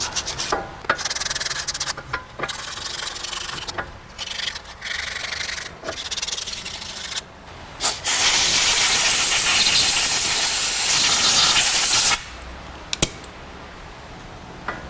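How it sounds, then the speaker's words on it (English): 80-grit sandpaper is rubbed inside a car wheel hub, first in short rasping strokes with pauses, then a loud continuous scrubbing stretch before a few final quick strokes, close and alone. "Got some 80 grit, go inside here, get her cleaned up."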